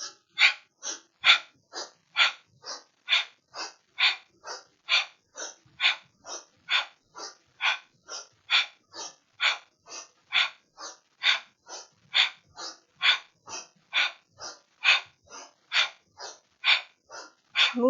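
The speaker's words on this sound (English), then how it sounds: "Powerful breathing." Powerful rapid breathing from a kundalini yoga exercise: forceful breaths in a steady, even rhythm of roughly two per second, close and clear, continuing without pause and with no talking.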